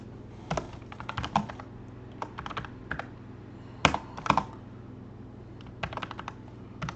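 Computer keyboard typing while entering SQL Server queries, irregular bursts of crisp key clicks with short pauses between them, close and fairly clear over a faint steady hum, with no talk.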